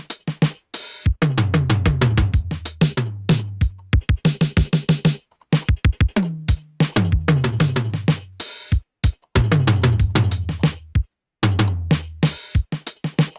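A punchy electronic drum pattern with deep booming kicks and snappy hits, broken by short gaps and quick rolling fills; loud and alone.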